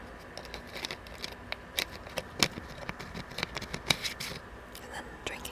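Plastic lid of a drink container being handled, with a series of sharp clicks, snaps and light scratches spread irregularly across the clip, close and fairly quiet over a soft steady background.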